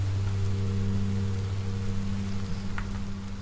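Rain falls in the game Minecraft Story Mode as a steady hiss under a low, sustained hum, fairly loud and even, with no voices.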